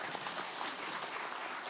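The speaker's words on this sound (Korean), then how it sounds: "박수 한번 쳐주십시오" Audience applause at a 2022 new year gathering of small-business owners, greeting the Fair Trade Commission chair; steady, dense clapping throughout, moderately loud, with no talk over it.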